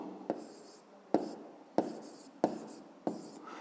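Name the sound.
writing on paper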